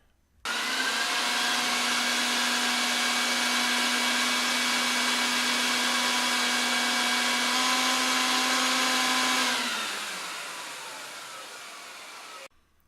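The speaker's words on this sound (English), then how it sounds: "This is the power of the great vacuum and the odor-free Dead Sea minerals." Rug-cleaning extraction vacuum pulling pet urine and water out of an oriental rug: a loud, steady motor whine with a strong tonal hum that holds for about nine seconds, then drops in pitch and level as it winds down.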